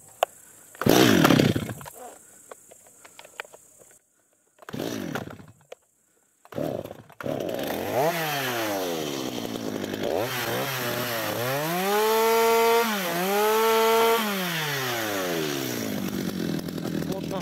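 A chainsaw cuts boards for a sauna ceiling, with short bursts and pauses before settling into a long, loud continuous cut whose pitch rises and dips under load.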